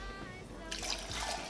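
The water phase of a homemade body lotion is poured into the oil phase, a brief close trickle that turns into a louder, fuller splashing pour about halfway through, with a faint voice-like hum at the start.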